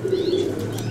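Competition pigeons from a Thessaloniki club give a soft, close, low coo that stays steady for about half a second and then trails off, with no voices.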